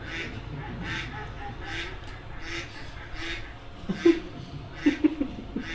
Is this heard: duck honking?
yes